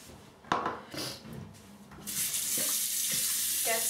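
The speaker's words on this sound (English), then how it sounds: "Get some fresh water into here so that the results aren't skew." Tap running fresh water into a bowl used for testing shaving brush lather, starting after a few knocks and clatters and then pouring in a steady, fairly loud stream.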